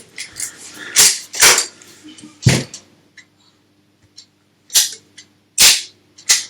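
Sharp mechanical clicks from the triggers of a Russian Baikal double-barrel, double-trigger shotgun being pulled during a pull-weight measurement, about seven close, crisp snaps at irregular intervals with quiet pauses between.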